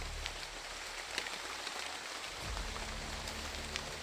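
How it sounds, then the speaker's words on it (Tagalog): Heavy rain pours steadily, a dense continuous hiss with scattered drops pattering close by, no voices present. "Malakas ng ulan."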